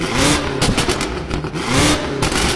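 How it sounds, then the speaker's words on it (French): A sports car revs hard through an Akrapovic carbon exhaust, giving a loud, continuous, rasping roar with crackling pulses that stays close and fills the clip. "Les sorties d'échappement en carbone signées Akrapovic avec un son juste sublime."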